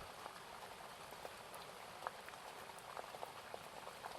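Soft, steady rain patters continuously beneath a bedtime story, a faint even hiss dotted with tiny droplet ticks and no voices.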